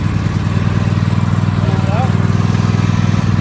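A Cub Cadet LX42 XT2 Enduro lawn tractor's engine runs at a steady, loud, close idle, a low pulsing chug with a brief faint whistle-like sweep partway through.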